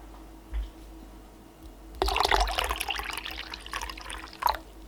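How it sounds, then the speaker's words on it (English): Water is poured to top up strained elderberry liquid, starting after a short quiet moment as a steady splashing trickle into the container that carries on to the end. "You just top it up with a wee bit of water."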